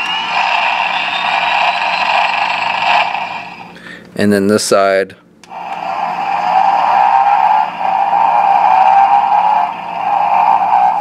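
Electronic engine revving sounds from a 1/12 scale toy Lawmaster motorcycle play loudly through a small speaker, interrupted briefly by a short spoken remark before the revving resumes.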